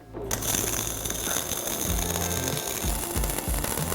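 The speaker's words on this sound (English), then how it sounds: "let's quickly weld that up" Welding a leg vise mount in a shop, an irregular crackling buzz close up, with intermittent lower hum and clatter.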